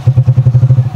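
A Rusi Chariot 175 motorcycle engine idles close by, its steady rapid thumping pulses firing in a regular low rhythm with no talk over it.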